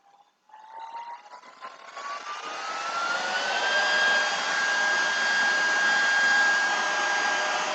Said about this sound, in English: Let me vacuum this off the tape.